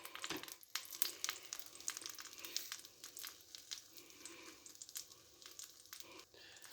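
Egg frying in a pan with cheese, onions and tomatoes gives a steady, fairly quiet crackling sizzle with scattered sharp pops throughout, and no voices over it.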